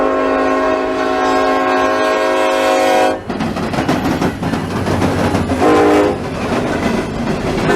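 A freight train led by a single EMD SD70M-2 locomotive sounds a loud, sustained horn blast for about three seconds, then rumbles past close by with clattering wheels and rolling rail noise.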